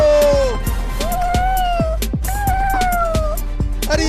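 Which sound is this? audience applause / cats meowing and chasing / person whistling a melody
cats meowing and chasing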